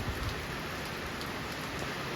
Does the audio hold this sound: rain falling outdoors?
yes